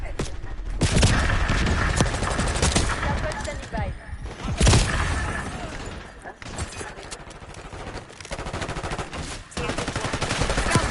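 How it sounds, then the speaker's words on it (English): A flashbang grenade goes off in the war game Call of Duty 6 amid dense, nonstop gunfire and explosions. One loud, sharp blast stands out midway through the steady din of battle. "Incoming flashbang."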